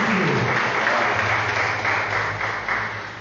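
A church congregation at a live worship service applauds loudly and steadily, a thick wash of clapping with a low hum underneath that tapers slightly toward the end.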